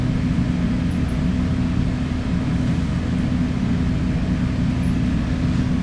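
A tuned Ford Flex making 661 horsepower on three pounds of boost roars continuously on a dyno at over 5,000 rpm, a loud, steady, dense drone with no talking.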